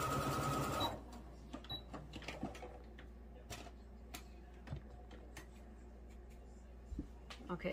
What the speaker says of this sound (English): Okay, so I sewed these two